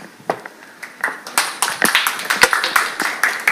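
A conference audience at a digital commerce summit applauds a senior marketing manager taking the podium, starting with scattered hand claps that quickly build into quick, steady, moderately loud clapping.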